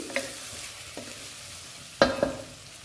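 Ginger-garlic paste with cumin and coriander powder frying in a pan for a brinjal and egg tamarind curry, a soft steady sizzle broken by a few sharp clinks of a spoon against the pan near the end.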